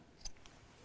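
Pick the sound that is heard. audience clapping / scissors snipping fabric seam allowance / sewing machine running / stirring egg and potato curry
scissors snipping fabric seam allowance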